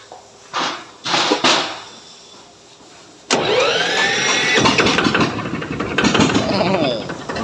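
A few brief revs, a pause, then a loud engine roaring steadily with a raspy exhaust, close by.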